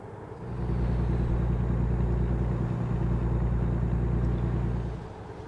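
A truck in American Truck Simulator pulls uphill, its engine droning in a loud, steady low rumble that swells up, holds for several seconds, then eases off.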